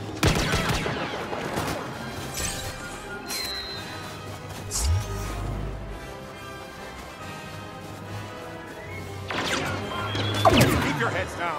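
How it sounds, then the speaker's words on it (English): Rapid bursts of blaster fire in Star Wars Battlefront crackle and crash, with heavy impacts and dense volleys at the start and end, as voices speak over the battle. "Blaster fire."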